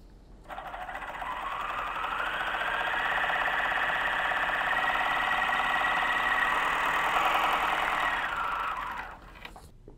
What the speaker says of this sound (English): let's go ahead and sew this stitch with the default settings on the machine